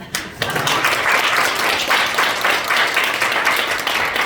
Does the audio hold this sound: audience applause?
yes